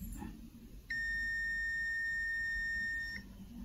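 A LAP 600-volt digital multimeter on its continuity setting gives a single steady high-pitched beep lasting a little over two seconds, clear and close against a faint room hum.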